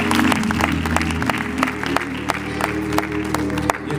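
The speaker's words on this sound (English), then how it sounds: "Let's give the Sunday school staff a round of applause." A crowd at a church gathering applauds the Sunday school staff, a dense spread of hand claps with a few sharp single claps standing out, mixed with crowd murmur and some voices under a low steady hum.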